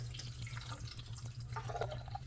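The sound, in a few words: water from a tap filling a plastic tank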